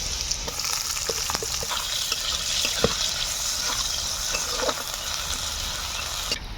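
Crushed garlic and chopped onion fry in a pan with a steady, close crackling sizzle, with sparse clicks and pops spread through and nobody speaking.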